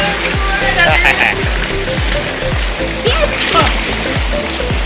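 Water splashes as several people bathe together outdoors in a village, with continuous rushing and churning and repeated low slapping thumps. Voices talk and call out over the water, which stays loud and close throughout.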